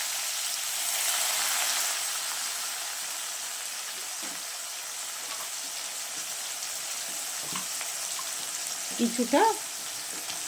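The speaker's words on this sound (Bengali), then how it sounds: "এবার কাঁচা পেঁয়াজগুলো তেলের মধ্যে দিয়ে দিলাম।" Raw onions drop into hot oil with a dried chilli already in the pan, giving a steady broad sizzle with light stirring clatter and a brief burst near the end while someone speaks a word.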